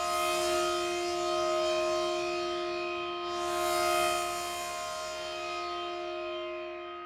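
A single synthesizer note holds with long sustain, a steady tone whose upper brightness swells and fades in a slow sweep near the middle, fairly quiet and with no voices.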